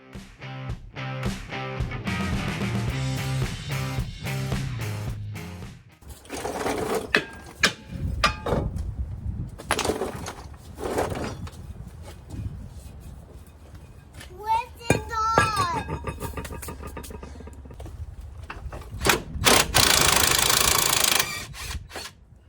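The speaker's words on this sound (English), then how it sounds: "I'm just going to clean them up with a flapper wheel for now" A flapper wheel on a power tool grinds rust off 2005 Mazda 3 rear brake rotors, loud whirring and grinding in bursts with mechanical clatter between, and some voices in the background.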